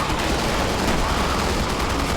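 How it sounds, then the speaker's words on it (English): A barrage of rockets slams into a boss in a Resident Evil game, a dense, loud, continuous roar of rapid explosive blasts with no pauses. "put in a bunch of rockets into him"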